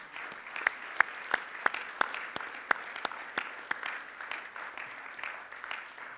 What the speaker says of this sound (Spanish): ¿Puede darle un fuerte aplauso al Señor?